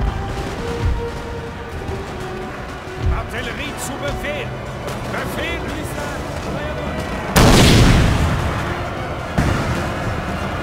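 Cannon fire in Napoleon: Total War, canister shot booming out once with a loud, sharp blast late on. Another fainter report follows, and muffled battlefield rumble and a talking voice run underneath.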